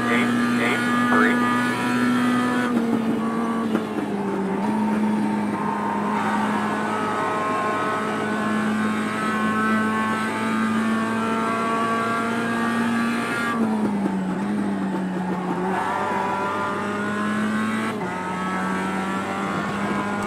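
Mazda MX-5 Cup race car engine in iRacing at Road Atlanta, a steady loud drone that rises and drops with shifts through the lap, continuous and alone.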